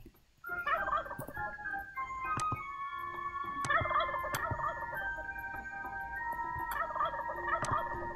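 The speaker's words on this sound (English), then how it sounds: "It's not a chicken. It's a turkey." A turkey in Roblox Wacky Wizards gobbles in several rapid, warbling bursts, fairly close and clear, with short sharp clicks scattered between the calls.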